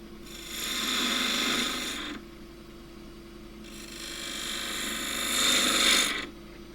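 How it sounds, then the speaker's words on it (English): A spindle gouge cuts into spinning wood on a lathe in two sustained passes, each a steady hissing shave over the motor's low hum, with a quieter gap between them. "Doing that with a spindle gouge. I'm going in at that angle."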